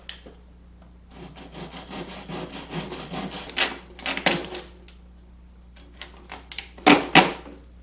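A spray paint can being cut open by hand on a tabletop: scraping, sawing strokes of metal rasping in uneven bursts, close and fairly loud, with pauses and a few sharp, louder scrapes near the end.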